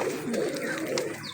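Laldoma pigeons cooing, a short run of soft, rolling low coos heard close and clear with no talking.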